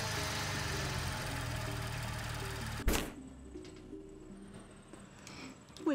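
An engine runs with a rough, knocking idle in the game Darkside Detective 2, then a sharp jolt cuts it to quiet, followed by faint rattles and a brief burst at the end.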